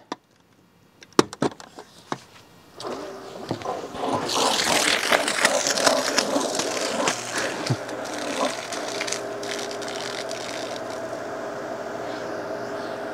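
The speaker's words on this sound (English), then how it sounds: "let's watch the water flow out of here." A Smartbot Robust 2800 water pump runs steadily, pushing water out of a tote with a continuous rushing, churning flow. It starts after a few scattered knocks and clatters, then holds a loud, even wash to the end.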